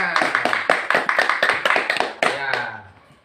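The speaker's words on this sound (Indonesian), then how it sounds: "Tepuk tangan dulu tuh semuanya." Children in a primary school classroom clap their hands together in a burst of repeated claps over about three seconds, mixed with chatter and voices.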